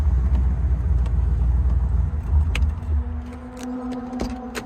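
Engine of a clean 1964 Corvette convertible with a standard shift rumbling low and steady while driving, with wind buffeting and a few light clicks and rattles rising near the end.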